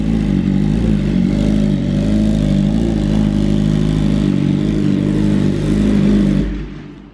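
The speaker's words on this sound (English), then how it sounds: "It's Jaret bringing in the bike." A carbon-bodied BMW M1000RR motorcycle idles and revs as it is brought indoors, a loud, close, steady engine note with mechanical clatter that cuts off near the end.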